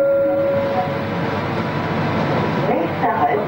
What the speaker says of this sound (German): Zug fährt ab.